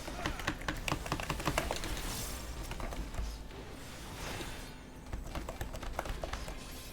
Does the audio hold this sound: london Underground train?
no